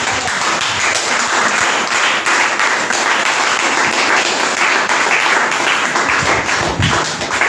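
A church congregation bursts into sustained, loud applause at a Sunday worship and praise service, dense clapping filling the space without a break.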